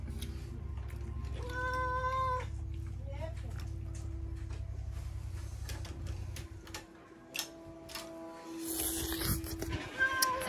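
A cat meows a few times near a garage where a trailer is being refurbished, the meows rising clearly over a constant low mechanical drone, followed by scattered clicks and knocks.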